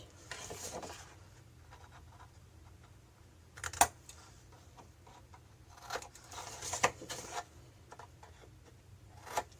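Fold lines are scored into a paper album page with a series of quiet scratchy strokes and soft taps, intermittent and close, with longer scraping passes between pauses.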